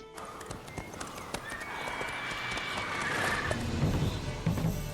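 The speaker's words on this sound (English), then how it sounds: "Whoa there, Roach" A horse in the video game The Witcher 3 trots with a steady clip-clop of hooves and lets out a whinny against the game's background ambience.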